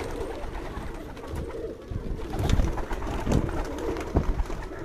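Kasuri pigeons at a home loft, with Ferozpuri birds nearby, give low, steady cooing that rises and falls over a constant outdoor rumble, with a few louder pulses near the middle.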